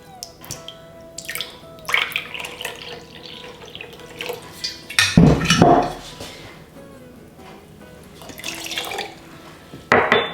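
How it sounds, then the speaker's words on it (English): Filtered, unchlorinated water, a quarter cup, is poured into a sourdough starter in a home kitchen, with an uneven splashing trickle that rises and falls, plus a couple of small clinks of the container. "Okay, to this, I always add 1/4 cup of filtered water."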